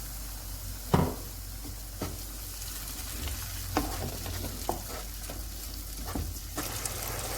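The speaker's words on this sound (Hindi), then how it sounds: "और इसे हम भून लेंगे। तकरीबन 1 मिनट के बाद इसमें टमाटर की प्यूरी डाल देंगे।" Chicken kabab karahi masala frying and being stirred in a pan, a steady close sizzle with several sharp scrapes and clinks of the spoon against the pan, no voices.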